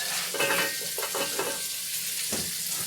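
Onions, carrots and celery hit a hot soup pot for sauerkraut soup, frying with a bright continuous sizzle broken by a few stirring scrapes and clinks, close and unaccompanied by talk.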